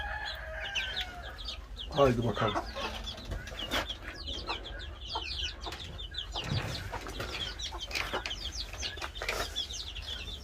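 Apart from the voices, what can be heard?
chicks clucking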